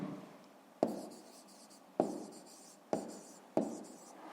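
A child-level math exercise being written out by hand: a pen scratches a digit onto paper in four distinct stroke bursts, each starting sharply and fading, close and quiet with no talking.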